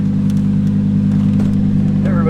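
Lamborghini Huracán Performante engine heard from outside the car, a steady loud low drone holding throughout with a slight lift near the end, under faint background voices.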